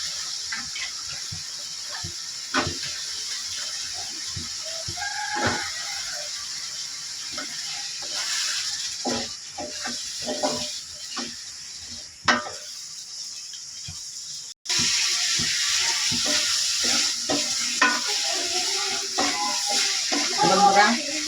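Drumstick and potatoes are tossed into a spice masala to sauté, with a soft sizzle and scattered clacks of a spoon against the pan, then a louder, fuller frying hiss after a brief cut.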